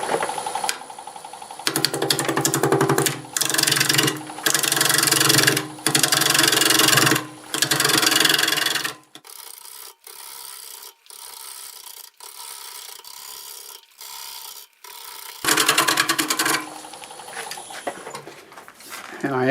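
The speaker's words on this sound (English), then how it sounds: "I'll be holding the gouge like this and taking the corners away." A bowl gouge with a 5/8 conventional grind knocks the corners off a roughly centered wood blank on a lathe. It makes loud, rough, rasping cuts in long bursts with short breaks, then quieter intermittent scraping and a final heavy burst.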